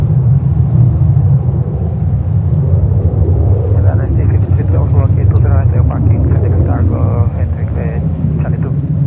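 China Airlines cargo aircraft on runway 31 left, a loud steady jet roar that continues for the whole stretch, with ATC radio talk and chatter audible over the engine noise.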